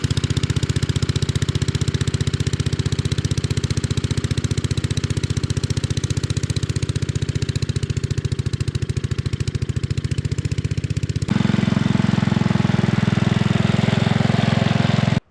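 A 1957 Gard'n Mast'r small garden tractor engine runs steadily with a low, even rumble throughout, shifting to a deeper, louder drone near the end.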